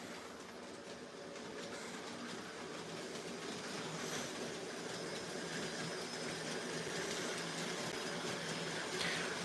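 A G scale model train runs along its track loop in an attic with a steady whirring rattle and faint clicking, growing slightly louder as it approaches.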